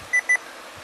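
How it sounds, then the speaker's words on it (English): An electronic camera gives two short, high, evenly spaced beeps, clear and close, with near silence afterward. "Sorry, my camera's beeping."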